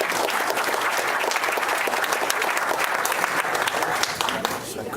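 Steady applause from a crowd at a county school board meeting, honoring elementary school kids: continuous, fairly soft clapping from many hands that fades slightly at the end.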